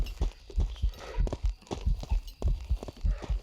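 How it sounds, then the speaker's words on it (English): Footsteps of a ghost in the horror game Phasmophobia thud in a quick, steady rhythm, heavy and fairly close, continuing evenly throughout without talk. "You'll notice that its footsteps are slightly faster than average."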